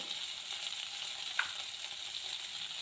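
Ginger frying in a pan with a constant, gentle sizzle, steady and unbroken apart from one faint tick near the middle, heard close with no voices.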